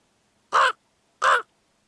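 Two loud caws ring out in a quiet desert canyon, evenly spaced and close, with near silence around them.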